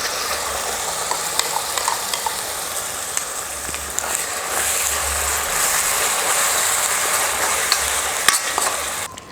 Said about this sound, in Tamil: இப்போ அரைச்சி வச்சுருக்கிற தக்காளி விழுதை சேர்த்துடுறேன்.